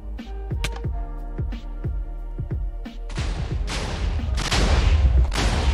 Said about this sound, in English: that's a huge explosion